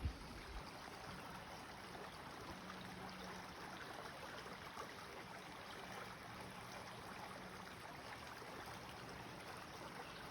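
River water flowing at Desoto Falls in Desoto State Park, Mentone, Alabama, a soft continuous rushing wash, faint and steady throughout with no talk.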